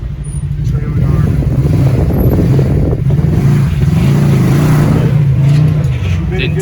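A Kawasaki KRX 1000 UTV crawls over rocks in a canyon near Reno, its engine a steady loud low rumble with rising revs, close by throughout, with a voice briefly heard over it.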